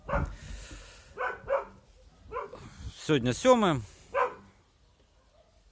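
A dog at a vineyard barks a few times, sharp yelping calls from a short distance, heard in the middle of someone talking.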